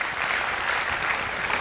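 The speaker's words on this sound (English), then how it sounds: "let's give them a big round of applause" Dense, steady applause from a large crowd at a leadership fashion show, clapping continuously throughout.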